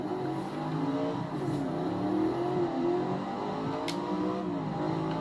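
A General Lee car, a Dodge Charger, revving its engine while driving on a road, the pitch rising and falling through repeated throttle swells, close and continuous with no talk.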